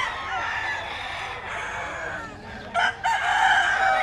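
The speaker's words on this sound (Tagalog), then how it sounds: "Ito yung mga manok ni Boss Joseph." Chickens and roosters at the Bocaue pet market in Bulacan cluck and crow close by over a busy background, with sharper calls breaking out near the end.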